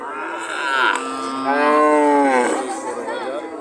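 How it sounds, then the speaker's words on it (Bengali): Cattle at a large market in Jamalpur, Kaliakair, Gazipur, give loud, close moos, a short call followed by a longer sustained one, with faint crowd chatter behind. "এখনো প্রচুর গরু আছে"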